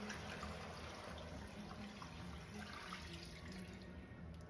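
Water pours steadily into a soup pot over potatoes for Zuppa Toscana, a continuous close, fairly quiet rushing splash with no pauses and no voices.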